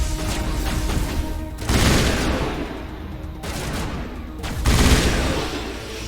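Rounds of gunfire in the sci-fi game Mass Effect come in two or three loud bursts with short lulls between them, while a player talks under the shooting.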